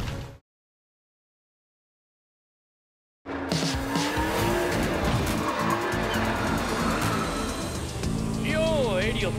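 Animated Hot Wheels City cartoon cars race and skid; after a silent gap, engines roar and tires squeal continuously and loudly, with voices mixed in.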